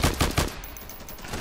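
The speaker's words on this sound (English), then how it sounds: "so I'm now using the Russian machine gun. This is a World War II machine gun." A World War II Russian machine gun fires in Ravenfield in a quick burst of three or four close, punchy shots, then falls silent.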